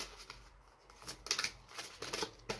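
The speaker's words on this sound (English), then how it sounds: "We are, of course, gonna shuffle." Oracle cards being shuffled by hand in a series of soft, irregular papery riffles and slides, close and fairly quiet, with no talking.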